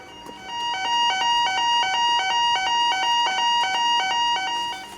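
An emergency alarm at an industrial site beeps in a rapid, repeating electronic pattern of bright high-pitched tones, loud and continuous throughout.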